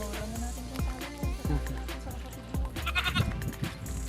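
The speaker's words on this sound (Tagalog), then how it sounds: "Yun o, ang gaganda ng mga kambing niya" Goats on a Filipino farm bleat repeatedly, several sharp, wavering cries from nearby animals in quick succession with a low background rumble and a few faint voices.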